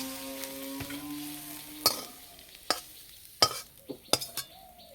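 Jute leaves fried in raw mustard oil with garlic sizzle quietly in a pan, while a metal spatula scrapes and clinks against it in several sharp strokes toward the end.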